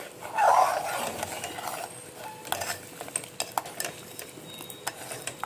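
Kheer being stirred in a pot with a spoon, soft scraping and light clinks against the metal, with a brief louder scrape at the start and scattered taps after.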